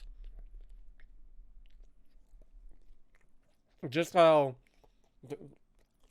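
Faint, close chewing of food with soft mouth noises at low volume, followed by a brief spoken remark and a few quieter sounds afterward.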